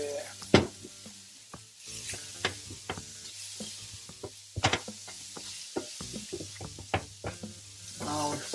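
Tofu and garlic fry in oil with a light sizzle under repeated sharp clacks and scrapes of a utensil against the pan, irregular stirring knocks spread throughout, close up.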